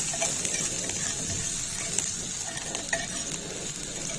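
Garlic sizzling in a pan, a loud continuous hiss of hot oil with occasional clicks of a spoon stirring it, close up.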